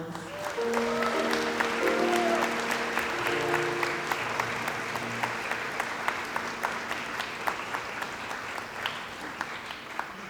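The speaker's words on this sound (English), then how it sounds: "Let's give them another round of applause." Audience applause at an award ceremony, sustained clapping with a few brief voices early on, continuing steadily before slowly fading.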